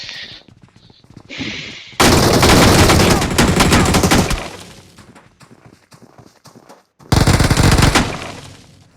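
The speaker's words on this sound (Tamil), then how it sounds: "அவனை சாவடிடா அவனை சுடுடா" Bursts of rapid automatic gunfire in a shooting video game, loud and close, with two long volleys separated by quieter stretches of shuffling game sound.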